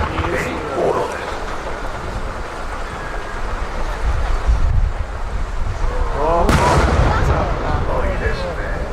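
Fireworks display at Nagashima Onsen, booming bursts and crackling shells sounding from a distance with steady outdoor wind rumble, one sharp burst near the middle and a louder crackling one later.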